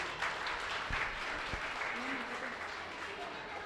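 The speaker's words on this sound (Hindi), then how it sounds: "तालियां हो जाए इन बच्चों के लिए।" Audience applause for schoolchildren at a Grandparents' Day school event, a brief patch of scattered clapping with a few sharp claps, moderately distant, under a murmur of voices.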